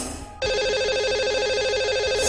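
Telephone ring on a radio call-in show dialing a lucky caller: after a brief lead-in, a loud electronic ringtone pulses steadily in a rapid repeating warble, alone and close.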